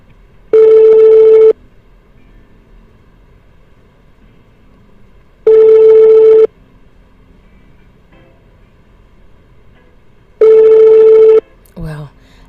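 Phone line ringing unanswered: three long, loud, steady electronic rings evenly spaced about five seconds apart with silence between, followed by a brief click at the end.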